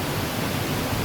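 The top of Luaha Ndroi waterfall in North Nias gives a steady, close, broadband roar of falling water that fills the whole moment without change.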